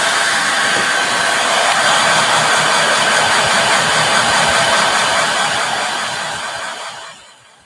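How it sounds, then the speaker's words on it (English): A hair dryer blowing steadily and loudly up close over fresh paint, a constant whooshing roar with a faint whine, winding down over the final second. "if you take a hair dryer or the heat pen"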